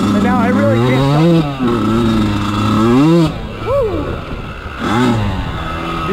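A 1999 Kawasaki KX80 two-stroke dirt bike engine revving up and down in repeated rising and falling bursts, loud and close, with a brief lull between revs.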